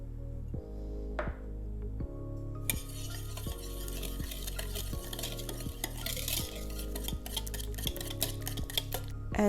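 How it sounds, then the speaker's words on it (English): Eggs and sugar for a berry cake batter are whisked together in a bowl, with rapid scraping and clinking strokes of the whisk over steady background music. "Start by combining the eggs and sugar until smooth."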